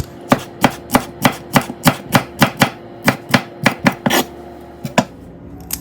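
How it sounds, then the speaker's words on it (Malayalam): A knife chops Indian broad beans on a board, striking about sixteen crisp, evenly spaced cuts with a brief pause near the fourth second and a final chop after it. "നമുക്ക് അമരപ്പയർ ഇങ്ങനെ കട്ട് ചെയ്തെടുക്കാം കേട്ടോ."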